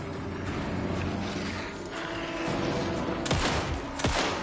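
Gunfire in the game Alan Wake 2, a couple of sharp shots cracking over a dense rumbling background, fairly close and loud.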